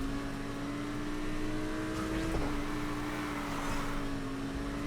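Car from NFS Heat racing ahead of AI rivals and cops, a steady sustained engine drone with a brief pitch shift midway, loud and continuous with no talk.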